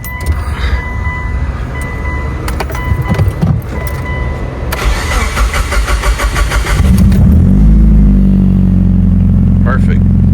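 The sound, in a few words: Mitsubishi Evo8 car engine starting up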